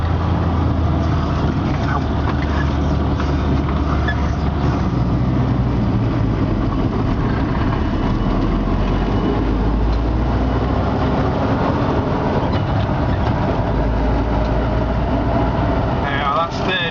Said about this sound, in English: It's quite noisy to drive because there's no carpets in it or whatever.